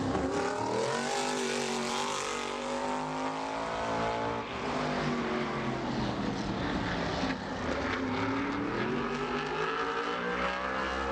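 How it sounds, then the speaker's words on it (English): Modified race car on a qualifying lap at Bowman Gray Stadium, its engine screaming loud and close as revs rise and fall through the corners of the short track. "flying the colors of Big B Coffee there in that number 64 car for the rookie Ethan Truell."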